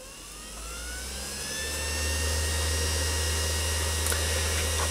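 A Machifit 500W motor on a cross-slide drill setup runs with a steady hum and whine that climbs in pitch as the potentiometer speed control is turned up, smooth and fairly loud at close range.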